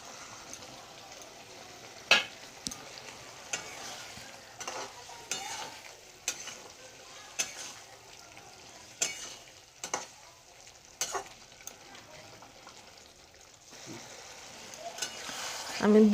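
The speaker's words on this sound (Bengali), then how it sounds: "এবার আমি এক করে ভাজা পনিরগুলো দিয়ে দিচ্ছি।" Fried paneer pieces go into simmering matar paneer gravy, a soft bubbling sizzle broken by repeated spoon stirs and light clacks against the pot, close and quiet with no speech.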